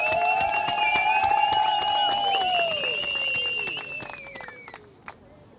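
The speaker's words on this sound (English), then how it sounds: "give yourselves a big round of applause" A crowd at an outdoor human-rights vigil outside the Zimbabwe Embassy in London bursts into dense clapping mixed with whoops and cheers. The applause stays loud, then thins and fades out near the end.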